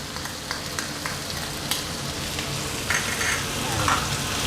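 Morning glory stir-fried with bacon and chilies in a hot pan gives a steady, moderately loud sizzle with soft scraping and tossing sounds rising toward the end.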